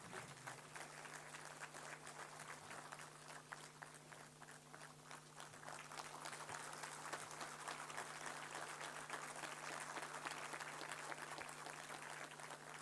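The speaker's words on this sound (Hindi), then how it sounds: "जोरदार तालियों से इस पल का स्वागत करें" An audience at a government campaign inauguration applauds during an exchange of memoranda. The clapping is dense and steady but faint and distant, over a low hum.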